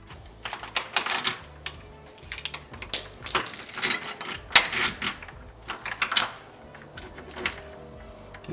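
Phillips head screws are backed out of a Level Touch smart lock: a close, irregular run of small sharp clicks and ticks from driver and metal parts, with no talking.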